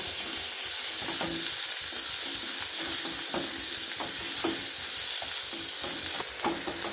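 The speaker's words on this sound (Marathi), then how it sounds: "यामध्ये घालूया कांदा कांदा छान परतून घ्यायचा आहे गुलाबी रंगावर" Onion sautéing in a pan with garlic, a continuous bright sizzle with repeated scraping and tapping as a spoon stirs through it, close and steady without speech.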